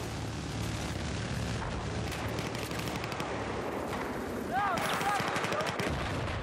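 Sustained gunfire rattles on in the video game Battlefield 4, a steady dense mix of shots at moderate level with brief whistling tones toward the end.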